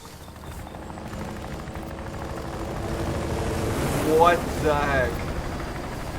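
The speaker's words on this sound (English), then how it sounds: "That helicopter is flying a little low, don't you think?" Low-flying helicopter in the Death Stranding video game, a steady rotor drone building slightly louder over several seconds, with a brief exclaimed voice partway through.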